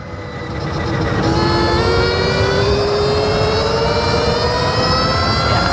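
A Stark Varg Alpha electric dirt bike riding at half throttle in mode 2, its motor rising into a loud, steady, high electric whine with rough wind and rolling noise underneath.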